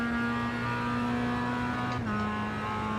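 A Mazda MX-5 Cup race car in iRacing holds a steady, loud engine note at high revs, then a quick gear change to third dips the pitch before the drone carries on.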